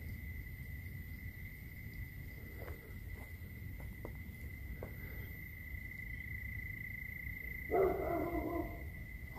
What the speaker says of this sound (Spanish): hay perros y me imagino que son del panteón que está de este lado